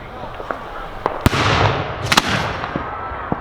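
A professional fireworks show produces a string of sharp, loud bangs and crackling bursts over a few seconds, with one dense cluster of explosions in the middle and scattered pops around it.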